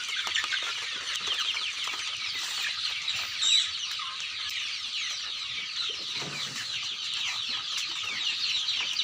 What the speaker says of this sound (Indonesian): Nah, ini anakan ayam yang kemarin itu masih kecil.